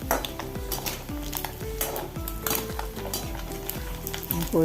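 Anchovies frying in masala in a pan, a dense sizzle with repeated ringing metal clinks and scrapes as the spoon stirs, close and fairly loud.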